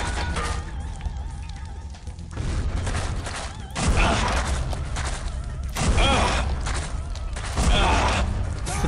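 Gunfire in the shooter game SiN comes as repeated loud bursts with heavy thumps, dense and close, returning every couple of seconds over a steady game backdrop.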